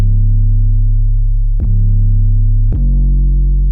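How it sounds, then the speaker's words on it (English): A loud, deep 808 bass drone sustains throughout, changing pitch twice with brief clicks at each note change. "This is a big 808 I like to use."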